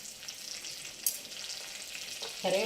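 Onions, garlic and curry leaves fry in a pan for a bendakaya (okra) fry, making a soft, fairly quiet sizzle with a brief sharp crackle and a closer clink or scrape near the end.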